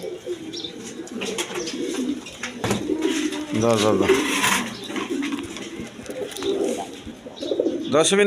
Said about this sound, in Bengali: এইখানে এক পেয়ার কষা গলা কবুতর আছে